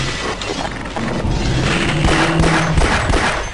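Rapid gunfire while shooting headcrabs in the video game Half-Life: dense, continuous bursts of shots with crashing impacts, loud and busy across the whole stretch.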